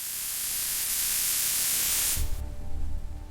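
Steady broadband hiss of a spray dryer nozzle atomizing milk concentrate into a fine spray inside a milk powder factory, loud and continuous before cutting off abruptly into a low mechanical rumble.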